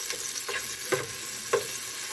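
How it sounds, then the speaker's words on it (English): Frozen minced onion sizzling in a hot pot, a continuous close frying hiss with a few soft stirring scrapes and taps breaking through. "Okay, onion's sizzling."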